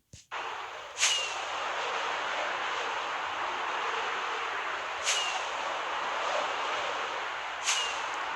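Minecraft elytra flight boosted by firework rockets: a constant rushing wind roar runs throughout, broken by three sharp bursting whooshes as rockets fire, with no talk.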